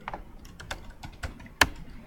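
Keystrokes on a computer keyboard, a scattered run of soft taps ending in one sharper, louder clack, close by with no talking.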